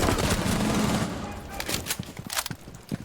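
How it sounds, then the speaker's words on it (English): Sustained SMG-11 machine pistol fire from Rainbow Six Siege, a dense rapid burst emptying the full magazine over the first second, followed by scattered in-game impacts and clatter. "go for the entire mag with the SMG-11"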